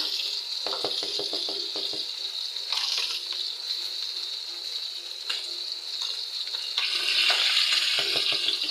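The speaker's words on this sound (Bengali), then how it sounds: "আর এখানে আমি মাছটা বসাই দিচ্ছি ভাজা হতে থাক" Steady sizzle of fish frying crackles from a pan, with occasional soft clinks and taps of utensils, close and continuous, growing slightly louder near the end.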